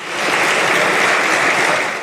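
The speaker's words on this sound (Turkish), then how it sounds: "MHP sıralarından uzun uzadıya alkış sesleri yükseldi" Prolonged applause from party benches in the Turkish parliament chamber, a continuous, even roar of many hands clapping at close range with no voices standing out.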